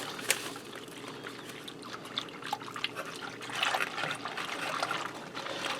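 Pasta sauce trickles and glugs out of a second pack into a Ninja Speedi cooker pot, a soft wet pour close by that swells slightly toward the end.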